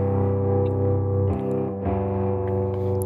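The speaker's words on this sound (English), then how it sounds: "This is the main guitar." A sustained electric guitar chord rings with a thick, distorted tone and no processing, shifting to a new chord once or twice, played alone without talk.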